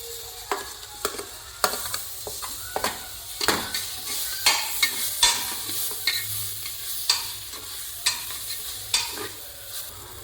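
Tomatoes are stirred into sizzling veg pulao masala in a pan, with a constant frying hiss and frequent rhythmic spoon scrapes and clinks against the pan, close and fairly loud.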